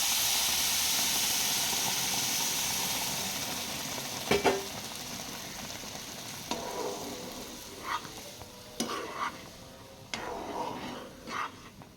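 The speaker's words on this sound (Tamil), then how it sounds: "இப்போ நம்ம கொதிக்க வச்சுருக்க தண்ணியை இதில் சேர்த்துக்கலாம்." Boiling water poured into roasting semolina for pineapple kesari: a loud hiss of steam and sizzling fades gradually, then scattered stirring scrapes and clinks follow at irregular intervals.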